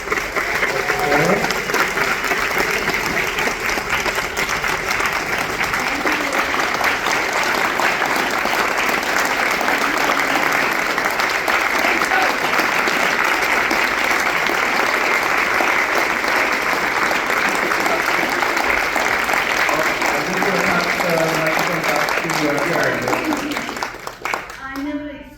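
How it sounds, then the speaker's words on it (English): A large audience claps in sustained, loud applause after a guest's appearance at a talk, the dense clapping holding steady for about twenty-four seconds before tapering off abruptly at the end. "If we could give one more round of applause for"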